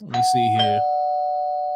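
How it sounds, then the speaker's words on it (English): A doorbell chimes once with a clear ringing tone that rings on and slowly fades. Someone speaks briefly over the start of the chime. "Oh, that's the doorbell."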